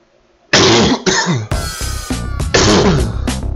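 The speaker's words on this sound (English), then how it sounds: "Sorry for the coughs." A run of harsh, loud coughs close by, about six or seven bursts in quick succession with short gaps, no talking.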